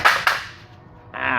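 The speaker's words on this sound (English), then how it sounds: "We have a hubcap here, so with two hands and just a touch of hate, pull that sucker right off." A car hubcap pulled off a wheel by hand, two sharp metallic pops in quick succession, loud and close, followed by a brief rustling scrape.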